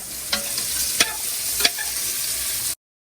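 Beans stir-frying with garlic and salt in a pan for a celtuce dish, a steady broad sizzle with three sharp spatula scrapes spaced across it, close and fairly loud, then the sound cuts off abruptly.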